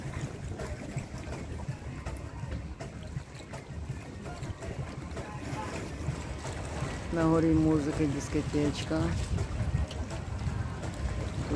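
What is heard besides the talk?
boats on the sea at Monaco harbor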